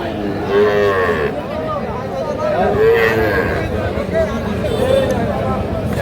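Bull cattle moo loudly and repeatedly at a busy livestock market, their long calls close by over a background of crowd chatter and talking buyers.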